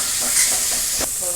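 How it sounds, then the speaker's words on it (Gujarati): Tomatoes frying in a pan with a steady broadband sizzle, plus a brief stirring scrape near the end; close and moderately loud, no talking. "ટમેટા પણ નાખી દઈશું."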